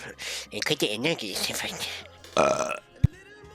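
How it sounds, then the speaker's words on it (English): A burp comes through over a voice chat during a Vintage Story multiplayer session, a loud, low, drawn-out belch after a stretch of speech, followed by a short sharp thump. "Was that burp you"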